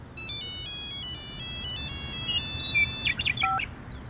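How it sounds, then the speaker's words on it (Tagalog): Cellphone ringtone playing a bright, stepped electronic melody of repeated high beeping tones, ending in a quick warbling flourish over faint background rumble. "tumunog ang cellphone ko"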